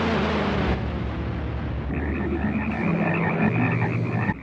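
Frogs croak in a dense, continuous chorus in a 1972 made-for-TV movie, with a higher rattling croak rising over a low droning mass of calls.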